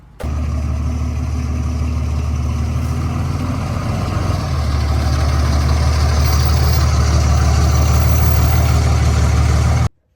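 A truck's engine runs close by, a loud, steady mid-range idle with a low rumble that shifts slightly in pitch partway through and holds until it cuts off at the end.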